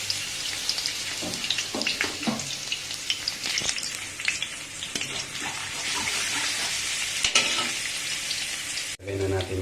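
Garlic sizzles and crackles in hot oil in a pan while being stirred, a steady close frying hiss with scraping clicks of the utensil, ending in a brief break.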